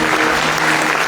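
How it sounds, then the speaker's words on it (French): A church congregation at a Sunday service gives a loud, brief round of applause, dense clapping with a faint murmur of voices underneath. "On va laisser un applaudissement."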